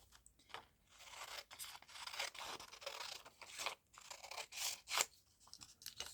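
Scissors snip and trim paper ephemera for a masterboard, making a string of close, crisp cuts and rustles that come in short irregular bursts with no talking.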